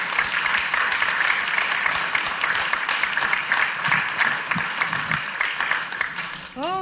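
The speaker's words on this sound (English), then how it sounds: "I think our panel deserves a round of applause for their amazing speeches." A room full of audience members applaud a panel after their speeches, sustained loud clapping with some crowd murmur, ending as a brief tonal sound cuts in.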